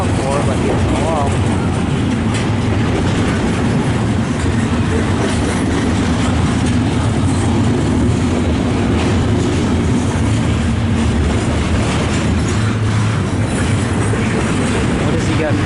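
A freight train with a Kansas City Southern locomotive rolls past in a steady, loud rumble with rhythmic wheel clatter and low engine drone, while people talk nearby.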